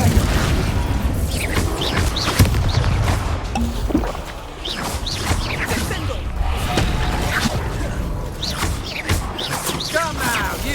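An Incendio fire spell is cast during combat in Hogwarts Legacy, heard as repeated whooshing bursts and heavy booms with crashing impacts that sit over a dense, continuous layer of game sound.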